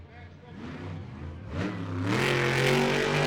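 The El Toro Loco monster truck, driven by Mark McDonald, revs its engine up to a loud rising roar at the Monster Jam World Finals, under an arena announcer's voice.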